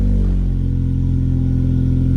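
A 2015 Honda Civic Si with a Yonaka exhaust and a Full Race catted downpipe revs in a brief, loud, close burst, with a deep steady drone and no voices.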